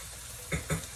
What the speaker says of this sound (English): I'm going to go ahead and start frying the tomatoes here.